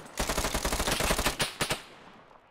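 Rapid machine gun fire in the Arma 3 military shooter, a dense burst of loud automatic shots lasting about a second and a half, then two separate sharp bangs that fade into a short echoing tail.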